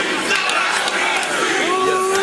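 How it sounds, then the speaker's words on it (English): Wrestling fans roar in the Stampede Pavilion arena, a dense, loud, continuous crowd cheer with shouts and whoops throughout, a commentator's voice faintly mixed underneath. "The crowd here in the Stampede Pavilion is beside themselves."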